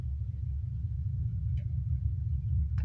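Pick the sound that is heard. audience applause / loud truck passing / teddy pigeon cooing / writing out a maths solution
loud truck passing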